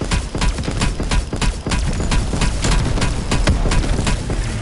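Fast, repeated gunshots in Call of Duty Cold War Zombies, a steady rattling stream of close, loud bursts with sharp attacks, continuing without pause and with no talk over them.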